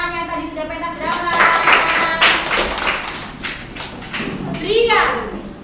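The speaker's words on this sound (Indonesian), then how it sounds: "Tepuk tangan yang tadi sudah pentas drama." Classroom clapping for students who have just performed a drama, uneven claps and taps mixed with children's voices talking over them.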